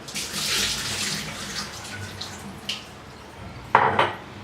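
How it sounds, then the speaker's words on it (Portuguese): Water splashes and trickles as almonds are drained through a metal strainer for plant milk, with clinks of utensils and a sharper clatter near the end; no voices. "Eu vou simplesmente escorrer as amêndoas aqui."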